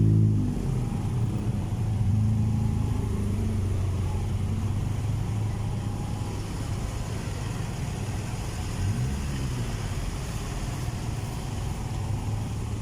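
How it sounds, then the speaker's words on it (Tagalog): Congested traffic on the EDSA flyover heading to Rosario, a continuous low rumble of idling and slowly moving engines with a couple of nearby revs, steady and moderately loud with no speech. "grabing traffic po dito sa taas po ng flyover ng EDSA papuntang Rosario"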